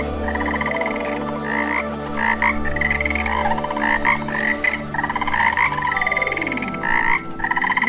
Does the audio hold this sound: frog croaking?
yes